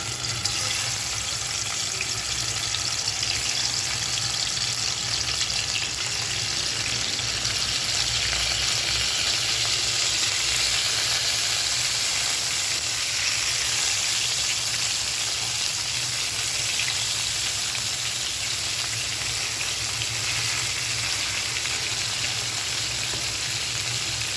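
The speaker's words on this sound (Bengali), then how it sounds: "মাছগুলোকে লাল করে সুন্দর করে ভেজে নিচ্ছি।" Pieces of rohu fish fry in hot oil with a loud, unbroken crackling sizzle that holds steady close by throughout.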